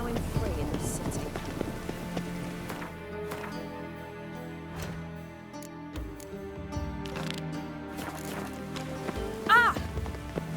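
Steady rain falls on surfaces in the video game The Witcher 3: Wild Hunt, a continuous wash under a character's voice, with occasional footsteps and hoof sounds.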